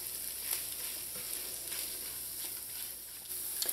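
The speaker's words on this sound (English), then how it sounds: "allow this rice to toast for a minute to 2" Rice toasting in a pan for arroz con pollo, a soft continuous sizzle with light stirring scrapes, fairly quiet and steady, no talking.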